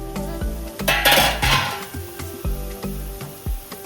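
Metal cooking pot lid lifted off while carrot mango rice simmers, with loud close clanks and scraping knocks of metal against metal in an irregular rhythm, no speech.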